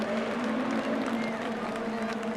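Spectators at a Lohéac rallycross event applaud the race winner, a steady wash of distant clapping and crowd noise over a constant low hum.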